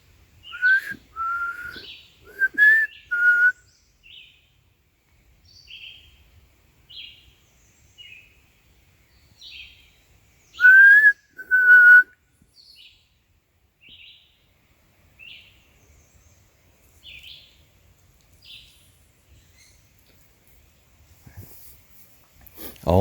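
A person whistles in the woods to call Bigfoot, with two loud, bright bursts of rising, pitched calls. Fainter whistles and soft bird-like chirps fill the quiet stretches between them, then a sudden noise at the very end.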